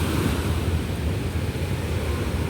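Rough sea surging onto the shore at Shankhumukham beach, a continuous loud roar of crashing surf with wind buffeting the microphone.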